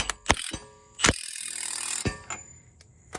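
A ratchet tightens the axle nut on a 2003 Toyota Camry during strut replacement: sharp metallic clicks, then a short buzzing ratchet run, then more scattered clicks, all close and clear.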